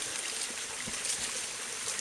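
Stream water flowing in a cool, shaded spot among big cedars on a hike to upper springs, a steady broadband rush and trickle heard close and continuous, with no talking.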